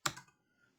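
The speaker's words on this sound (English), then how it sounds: "I'm going to just type these out real quick" A couple of quiet computer keyboard keystrokes, one near the start and one at the end, separated by silence.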